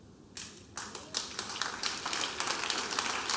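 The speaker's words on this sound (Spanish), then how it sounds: "Aplausos" A few scattered handclaps start quietly and grow into faint, uneven applause from a small group, heard at a low level and a fair distance.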